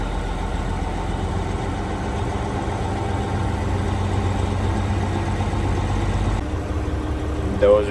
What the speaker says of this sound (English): Dozer's warmed up now.